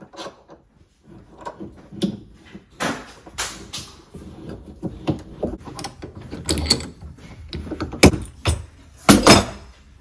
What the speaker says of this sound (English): And finally, we sink our screw.